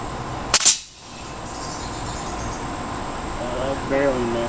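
A Bear River Sportsman 900 air pellet rifle fires one sharp, close crack near the start, followed by a quieter outdoor background with faint insect-like chirps.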